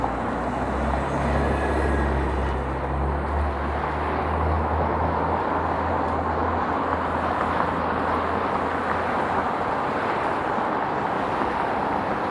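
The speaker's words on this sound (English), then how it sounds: "There's some subway trains in the rail yard at Davisville Station there." Subway trains in the rail yard at Davisville Station in Toronto, heard as a steady low rumble with a droning hum that holds for several seconds before fading, mixed with constant wind and street noise, no talking.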